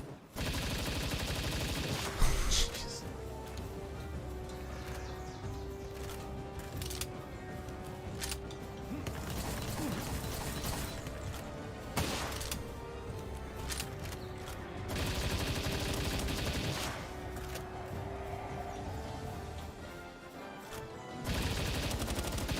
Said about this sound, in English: it is legit, like, just an assault rifle.